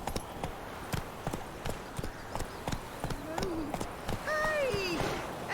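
Roach, a horse in The Witcher 3, gallops in steady rhythmic hoofbeats under a voice, with a brief whinny toward the end.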